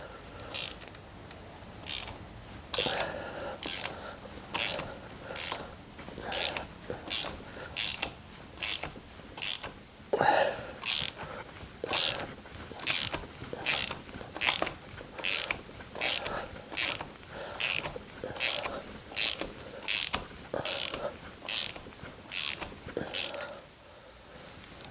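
A ratchet wrench loosens a 14 mm bolt on a crashed KTM Duke 125 motorcycle, giving a long, even series of sharp clicking bursts, close and distinct, with a brief softer pause partway through.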